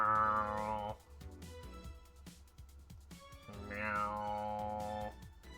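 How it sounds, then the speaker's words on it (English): A cartoonish cat meows twice in the VA-11 Hall-A video game, each call a clear descending tone over a soft, steady background music bed. "The cat!"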